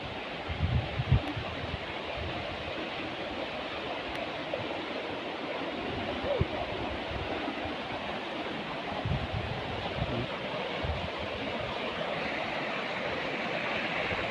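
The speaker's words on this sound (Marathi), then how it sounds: "पाण्याचा आवाज कसा आहे" Water flows in a stream at the foot of a hill near a hillside temple, a steady broadband rushing wash heard alone and evenly throughout.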